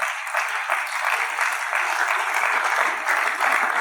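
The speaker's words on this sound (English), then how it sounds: "Please, I'd like you to put your hands together as we welcome Dr. Nkechi Eze." Conference audience applauding the arrival of Dr. Nkechi Eze at an education panel, a dense, even roar of many hands clapping continuously, moderately loud and slightly distant.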